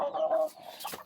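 A large hen or rooster of show gamefowl stock gives a few close, clear clucks and short calls inside a pen, with no talk.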